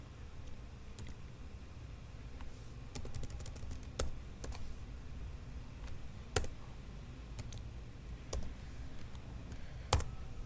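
Keys on a computer keyboard are tapped in sparse, irregular clicks during Python programming work, with a few sharper strikes standing out over a low steady room hum; nobody speaks.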